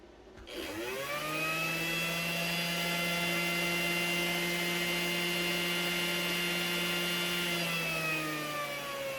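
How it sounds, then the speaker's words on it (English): A small Mabuchi 540 silver can brushed RC motor, the typical Tamiya type, spins up on a dyno with a steady, loud whine and hum that holds level for several seconds, with no talk. "we're going to start off with a little 540 Mabuchi silver can motor"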